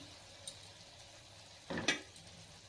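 Eggs stirred into frying fenugreek greens in a pan: a faint background sizzle with a couple of light clinks and one brief scraping stir, quiet and close.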